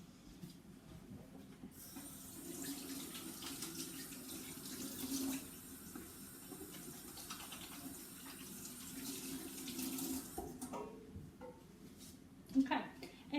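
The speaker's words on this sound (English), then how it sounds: "please make sure you've washed your hands really well before you do that" Water runs steadily from a kitchen tap during hand washing while baking chocolate chip cookies, a continuous broadband rush with faint clatter and a louder knock near the end.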